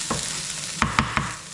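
Onions and garlic frying in a pan with a loud, steady close sizzle, broken by three quick utensil clacks as the mix is stirred.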